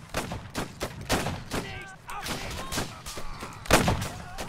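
Musket volleys in Mount & Blade: Warband crack out as a ragged series of sharp shots, some close and some farther off, with brief shouting voices mixed in.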